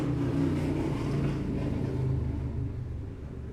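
Loud motorcycles roar past outside, a steady low engine rumble filling the whole stretch and easing slightly toward the end.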